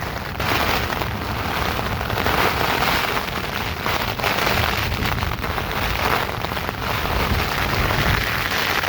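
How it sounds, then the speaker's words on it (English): Strong wind and heavy rain lash a tent during a storm on a remote hike toward Caleta Cóndor, a dense, steady roar of pelting drops and gusts with sharp crackling impacts on the fabric, loud and continuous throughout. "wind is hauling in and now it's fucking hosing now"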